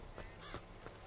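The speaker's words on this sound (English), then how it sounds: "You've got the flies here, you've got the bird" A bird cawing in the video game Bioshock, a few harsh, crow-like calls in quick succession over a steady hiss of ambient noise, mid-distance and fairly faint.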